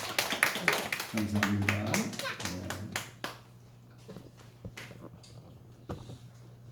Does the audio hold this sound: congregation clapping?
yes